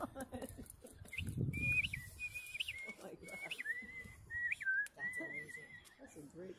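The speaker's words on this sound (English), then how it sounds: "That's a great whistle." A person whistles a melody by mouth outdoors in the cold, with sustained, sliding high tones in several phrases across the clip, over background noise and some low rumble.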